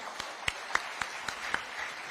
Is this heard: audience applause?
yes